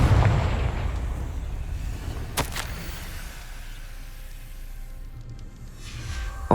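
A Confringo blasting spell detonates in Hogwarts Legacy: a loud burst opens it, a sharp crack follows about two seconds in, and a rumbling tail fades slowly before another pop at the very end.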